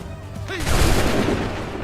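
A musket volley in Assassin's Creed III erupts as a dense crackling burst of many shots at once, loud and close, followed by a rumbling tail over battlefield noise.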